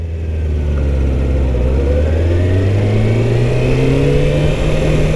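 A Jeep's engine revs and pulls hard under acceleration, a loud, close drone whose pitch rises steadily through a long gear with a faint whir on top and no voices.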